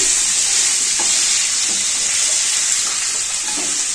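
Thick drumstick pieces and potatoes frying in oil for Chennai-style sambar, filling the clip with a loud, dense, continuous hiss of bubbling oil with only faint scraping underneath.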